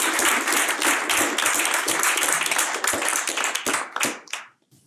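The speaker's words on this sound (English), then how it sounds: "So let's give a hand of applause" An audience at a lecture on the nuclear arms race and new technologies applauds loudly and steadily, then the clapping thins to a few scattered claps and fades out.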